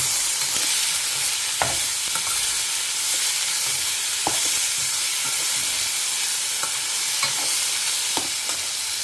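Onions and tomatoes fry in a pan with salt, giving a steady close sizzle and hiss, with intermittent scrapes and taps of a spoon stirring throughout, and no voices.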